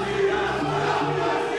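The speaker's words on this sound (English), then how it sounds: "The crowd go wild." Arena crowd at the Night Of The Gladiators 34 fight event in the UK roaring wildly after a guillotine finish, a dense, sustained wall of cheering and shouting heard briefly.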